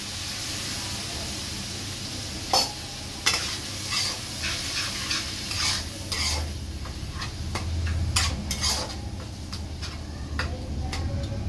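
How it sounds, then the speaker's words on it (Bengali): A spice paste sizzles in a pan with a splash of lentil water while a spoon scrapes and stirs in irregular bursts, close and steady. "যাতে মশলাটা ভালোভাবে কষে যায়"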